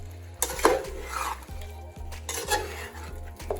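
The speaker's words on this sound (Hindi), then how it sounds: "अब मैं इसमें टमाटर डाल रही हूँ।" Tomatoes going into a cooking pan with ginger and garlic already fried in it: a faint sizzle under repeated clinks and scrapes of a utensil against the pan, with no talking.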